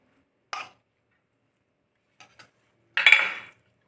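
A few separate scraping, rustling scoops of grated coconut spooned into a mixer jar, with short quiet gaps between them and silence otherwise.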